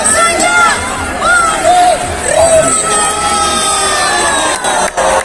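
A large outdoor crowd at a Jakarta anniversary concert cheers and whoops before the band takes the stage, a steady dense roar of many voices with rising shouts and whistles.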